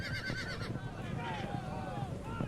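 Horses gathered in a Mongol army camp in the Age of Empires II Genghis Khan campaign, whinnying and snorting with hooves clopping under a low wind-like ambience, fairly faint and distant.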